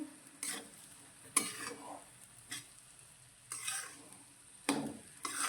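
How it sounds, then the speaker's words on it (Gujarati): Gram flour roasting in ghee in a pan over high flame for mohanthal, with repeated scraping stirs at an irregular rhythm over a soft, quiet sizzle, close by. "અત્યારે ગેસની ફ્લેમ થોડી આપણે હાઈ રાખીશું અને લોટને સારી રીતે ઘીમાં મિક્સ કરીશું"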